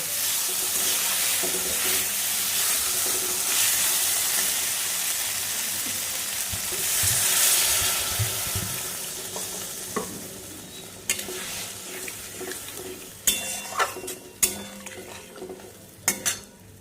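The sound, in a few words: water added to sizzling fried spices and potatoes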